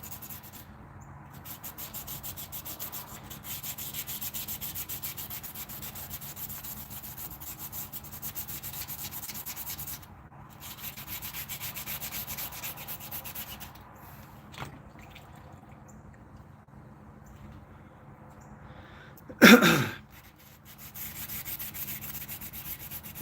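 Dry sandpaper rubbing steadily in a workshop, a continuous soft scratchy hiss for most of the clip, broken by a few short pauses, with one brief louder knock near the end.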